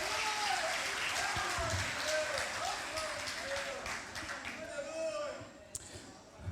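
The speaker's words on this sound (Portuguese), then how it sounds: "Você pode dar mais uma vez um forte aplauso ao Senhor?" A church congregation at a Sunday service applauds, a broad, continuous clatter of clapping that fades slightly toward the end, with a voice speaking over it.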